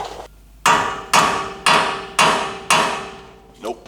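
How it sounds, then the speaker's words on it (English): A hammer taps a flipped nut on an ARB BP51 suspension bolt: five evenly spaced, sharp metallic strikes, loud and close, each ringing briefly before the next, with no talking. "I'm going to flip this nut over and just try and tap that gently down"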